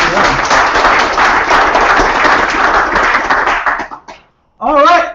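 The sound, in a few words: audience applause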